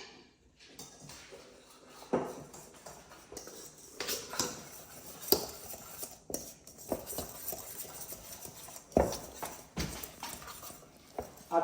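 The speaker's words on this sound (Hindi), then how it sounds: "और इसको अच्छे से फिर से मिक्स कर लेता हूं।" Chocolate cake batter stirred in a bowl: soft, irregular clinks and scrapes of a utensil against the bowl, quiet and close, with no talking.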